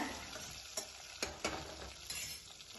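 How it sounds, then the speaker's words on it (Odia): Mustard seeds and green chilies crackle and fry in hot mustard oil in a kadai for an Odia mustard fish curry, with a steady sizzle broken by a few sharp pops and spoon stirs. "ଗ୍ୟାସ୍ରେ କରେଇ ବସେଇ ତେଲ ସୋରିଷ ତେଲ ପକାଇ ଫୁଟଣ ପକାଇବା, କଞ୍ଚା ଲଙ୍କା ପକାଇବା।"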